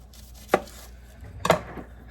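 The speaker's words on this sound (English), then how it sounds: "the first thing we're going to do is cut this large onion" Two sharp knife strokes through a large sweet onion on a cutting board, one at a time about a second apart, close and fairly loud with no talking.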